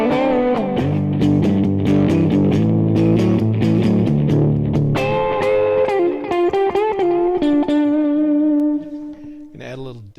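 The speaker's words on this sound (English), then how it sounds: "Gonna add a little dirt with the Route 66 and just play backwards so you can hear a little bit of that hum there" An electric guitar with all three pickups on, played through a Route 66 overdrive pedal for light dirt, gives dense, distorted chords that thin out to sustained tones with a faint underlying hum, then a few sharp final notes.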